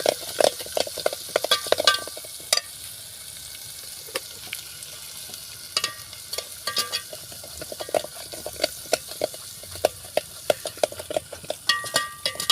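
Masala with turmeric, chili and salt frying in a pan for a soya chunk curry, a steady close sizzle broken by frequent sharp scraping and stirring clicks from a spoon against the pan.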